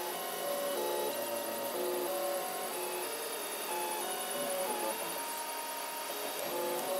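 A 3D printer printing a Dyson DC16 extension attachment, with a steady close mechanical hum and faint stepper-motor whines rising and shifting in pitch over continuous background noise.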